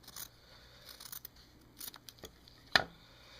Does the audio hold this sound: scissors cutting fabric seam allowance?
yes